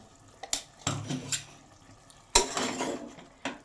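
Spoon stirring coriander paste into chicken in a metal pan, a handful of sharp clinks and scrapes at irregular intervals, close and fairly quiet, with a faint wet splash.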